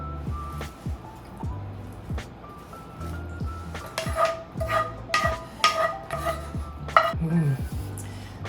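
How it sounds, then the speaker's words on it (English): Buttery onion and celery being stirred into bread cubes in a big bowl for Thanksgiving stuffing, giving soft wet squelches and dull knocks at a steady, uneven pace, close by, with no talk. "I'm going to take our onion and celery, buttery onion and celery, and stir that into our breadcrumbs"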